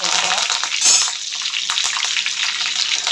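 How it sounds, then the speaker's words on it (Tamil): Mustard seeds spluttering in hot oil while a fish gravy is cooked, a dense continuous crackle and hiss with sharp popping flecks throughout, close and steady. "கடுகு நல்லா பொரிஞ்சிச்சு"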